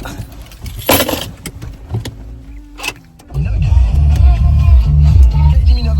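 Inside a car as a mother sets off driving in France: keys jangle and an electric window whirs near the start, then a steady, close low engine and road rumble fills the cabin from about halfway on.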